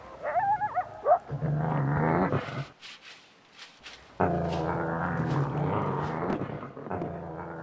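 Coyotes yelp, whine and growl at a wolf that has come close to their den in Yellowstone. High, wavering cries rise into a loud, continuous chorus of snarls and yelps nearby, with a short lull in the middle.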